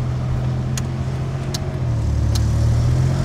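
A Fiat 130 cruising on a country road near Stalowa Wola, its engine giving a steady low hum with road rumble, the pitch shifting slightly partway through, with a few faint clicks and no voices.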